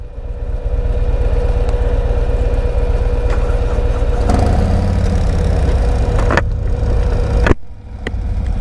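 A 2025 Harley-Davidson Road Glide motorcycle engine runs steadily up close with a constant low rumble, then cuts off sharply near the end before resuming more quietly.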